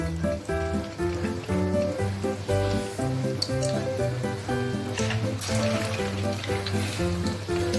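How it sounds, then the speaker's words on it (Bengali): Fish roe fritters frying in sunflower oil in a wok, giving a steady sizzle and crackle under loud background music. "এবার বড়াগুলোকে সুন্দর করে একে একে ভাজবো।"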